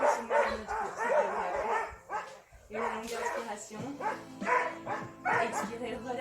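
Two dogs bark and yip repeatedly in the background of an indoor intermediate flow yoga class, mixed in with a woman's continuous spoken instructions.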